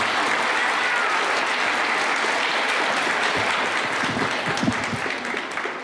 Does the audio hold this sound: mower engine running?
no